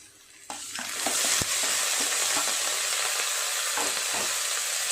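Chopped onions frying in oil in a pan with a utensil stirring them, a steady loud sizzle with scraping strokes and knocks against the pan throughout.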